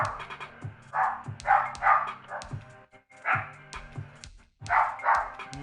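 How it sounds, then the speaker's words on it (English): A dog in the background of a home podcast setup barks in repeated short bursts, several quick woofs in clusters with brief pauses between, at moderate loudness. "My dog going off in the background."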